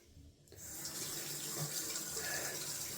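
Tap water runs steadily into a sink while a shaving razor is rinsed beneath it, the stream starting abruptly after a brief quiet moment and continuing as a close, even hiss with no talking.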